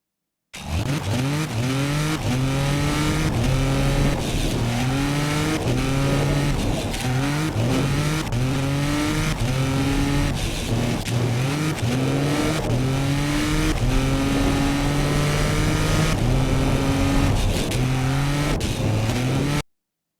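A turbocharged car in the BeamNG driving game accelerates hard, its engine revving up in repeated rising sweeps through the gears, loud and continuous for the whole stretch with no talk.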